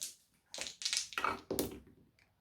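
Dice rolled during a Warhammer 40k tabletop wargame, giving a few sharp clattering bursts close by that tumble and settle over about two seconds, with no talking.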